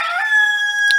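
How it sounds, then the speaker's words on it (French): A rooster crows once in a single sustained, loud, close call, tonal and slightly falling, with no talking over it. "là c'est le coq qui chante"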